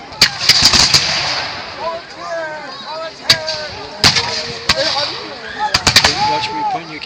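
Musket volleys at a historical reenactment, a string of sharp, loud reports at irregular intervals, some in quick clusters, with faint background talk and a ringing tone between shots.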